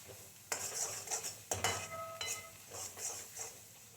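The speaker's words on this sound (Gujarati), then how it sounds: "હવે આપણે એમાં ડ્રાય ફ્રૂટ નાખી દેવાનું." A spoon scrapes and clinks against a pan as dry fruits are stirred into thick bottle gourd halwa, with irregular knocks, a faint sizzle underneath and no voices.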